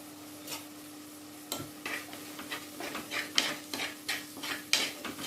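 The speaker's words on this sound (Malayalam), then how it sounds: "ചെറു തീയിൽ വെച്ച് നമ്മൾ മിക്സ് ചെയ്ത് ഇങ്ങനെ ഇളക്കി കൊടുക്കണം." A spoon stirs mint pickle in a pan over a low flame, scraping in a steady rhythm of soft strokes over a faint sizzle of oil, close by and quiet, with no talking.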